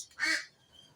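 A single nearby duck quack rings out inside a duck house, sharp and nasal, then fades to quiet room noise.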